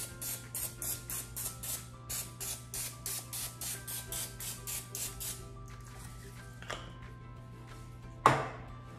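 Rapid bursts of cooking spray hiss in quick succession onto mini muffin pans, then a pause, a few faint clatters and one sharp metallic knock near the end.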